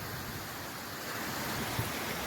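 Waterfalls cascading in a series near an alpine lake in the mountains, a steady, distant broadband rush of falling water with some wind buffeting the microphone, continuous and fairly faint.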